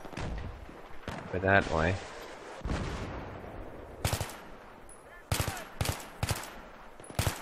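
Gunfire in Battlefield 3 cracks in scattered single shots and short bursts, some close and loud, with players talking between the shots.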